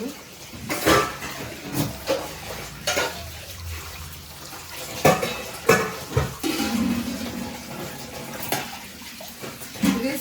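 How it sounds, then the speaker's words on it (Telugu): Water is poured into a pot of cooking chicken curry, sloshing and splashing in bursts, with the clank of utensils against the pot between pours. "వాటర్ పోస్తున్నాం"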